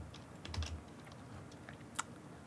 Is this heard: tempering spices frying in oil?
no